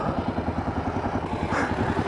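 A KLR 650 motorcycle, restarted after stalling, chugs at a steady idle with an even pulsing thump, close by with no voices.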